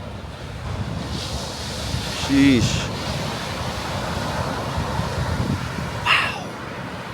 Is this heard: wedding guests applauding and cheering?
no